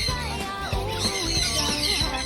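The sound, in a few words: birds squawking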